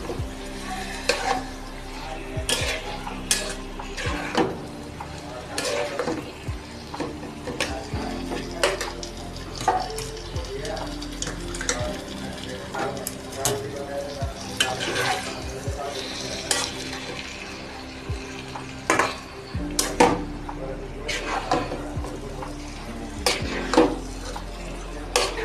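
Chicken curry pieces being stirred in a pan, with repeated scraping clinks of a spoon against metal and a low steady sizzle running throughout, fairly close and moderately loud, no talking.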